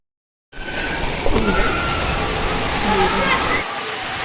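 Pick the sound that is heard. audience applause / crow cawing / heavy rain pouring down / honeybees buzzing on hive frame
heavy rain pouring down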